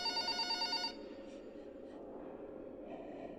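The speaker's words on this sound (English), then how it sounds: "This phone's ringing, right?" A telephone rings in the horror video game Exanimum, a loud electronic bell trill at the very start that cuts off abruptly after about a second, leaving a low ambient hum.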